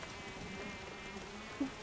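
A cartoon mosquito in an animated Hindi-dubbed movie buzzes steadily for about two seconds, a thin continuous drone at moderate level, rising briefly louder near the end, with no talking.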